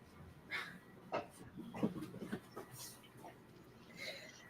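A dog gives soft, faint whimpers and yips in short, scattered bursts, with quiet breathing between them.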